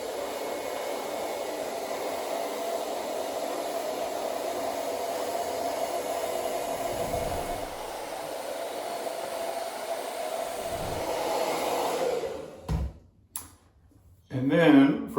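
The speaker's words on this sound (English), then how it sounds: "if you blow dry for too long or too hot, it can actually make your beard look a little wild, a little frayed" Hair dryer blowing on a big beard, a steady close whooshing roar that runs continuously, then cuts out and restarts in short bursts near the end.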